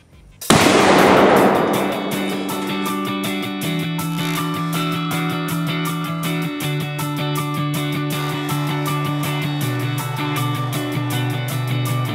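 A sniper rifle is fired into paint to create art. It gives a single sharp, loud report near the start with a ringing tail, followed by steady tonal sound for the rest of the clip.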